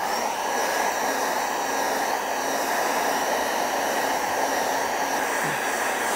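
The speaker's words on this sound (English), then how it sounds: "Get the old hairdryer again." An old hairdryer blows steadily over a landscape painting of the Giant's Causeway to dry the paint, giving a constant loud, close whooshing roar with no pauses.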